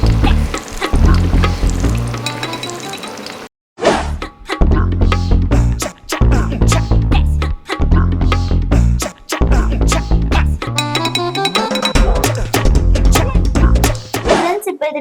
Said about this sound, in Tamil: மீடியம் ஃப்ளேம்ல சீஸ் பால்லாம் போடணும் ஃப்ரெண்ட்ஸ். நல்லா பொன்னிறமா வர வரைக்கும் பொரிச்சு எடுத்துக்கலாம்